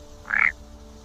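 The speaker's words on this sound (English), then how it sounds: "The nighttime wetlands erupt with the calls of frogs." A single frog gives one short, loud croak in a nighttime Amazon wetland, standing alone over a quiet background hum.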